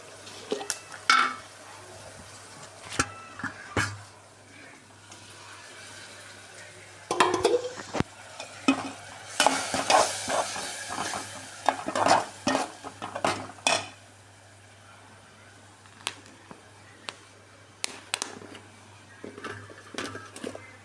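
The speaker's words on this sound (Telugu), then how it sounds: "ఇప్పుడు నేను అల్లం వెల్లుల్లి పేస్ట్ వేస్తున్నాను" Ginger garlic paste frying in a pan while being stirred, with irregular spoon scrapes and clatters against the metal over a faint sizzle, busier in the middle stretch and sparser toward the end.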